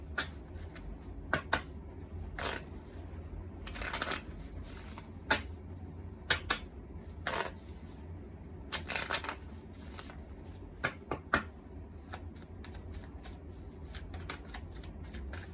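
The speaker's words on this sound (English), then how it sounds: "I feel like I need to shuffle them again." A deck of cards is shuffled by hand in repeated bursts of riffling and flicking, close and quiet, with short pauses between each pass and no talking.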